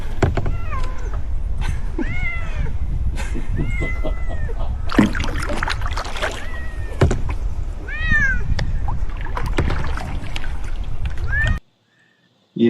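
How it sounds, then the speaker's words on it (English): A cat riding in a kayak on the water meows repeatedly, several short rising cries spread across the scene over steady outdoor rumble and water noise, with occasional voices in the background, ending in a sudden drop to near silence. "We have a kayaking cat."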